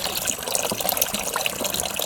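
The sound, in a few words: pouring hydrochloric acid into water and stirring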